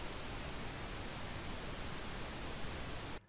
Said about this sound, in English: Pink noise decreases the gain of the frequencies the higher they get.